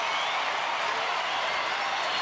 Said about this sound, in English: And the crowd really getting into it now